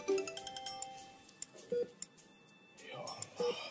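A mobile phone rings in a quiet room before surgery, its short repeating electronic tones coming in bursts with gaps between them, while faint background voices murmur.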